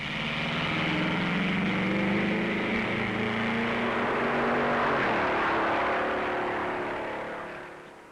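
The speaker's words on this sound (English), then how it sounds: "This 12-cylinder Ferrari with Bill Holland, Indianapolis winner at the wheel, sends the sands flying with a hot 148-mile average over the flying mile" 12-cylinder Ferrari race car driven by an Indianapolis winner, speeding across Daytona Beach sand over the flying mile in 1956, with a loud sustained engine roar that slowly shifts pitch as it passes, then fades.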